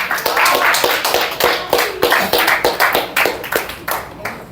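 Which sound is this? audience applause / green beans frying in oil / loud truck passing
audience applause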